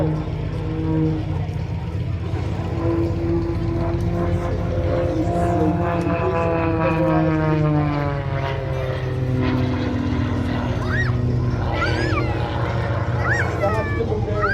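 An aerobatic propeller plane performs at the 2022 Brisbane air show, its engine droning and shifting pitch as it climbs and rolls, heard alongside an announcer speaking over a public address system.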